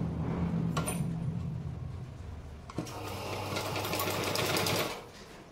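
A sewing machine stitches a blouse with a steady mechanical whir and rapid needle chatter, starting and stopping briefly near the start, then running continuously and loudly before slowing at the end.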